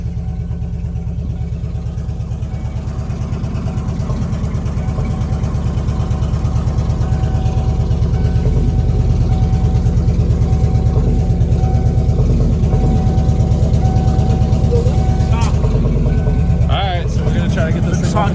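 A 1997 Ford F250 pickup idles steadily after starting, a loud, close, low rumbling engine throughout, with people talking over it and a few clatters near the end.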